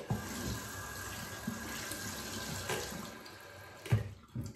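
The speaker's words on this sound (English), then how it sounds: "Okay, just added a little bit of water to that." Water runs from a tap in a steady trickle while shaving soap is lathered, close and moderately quiet, with a few soft knocks and clatters near the end.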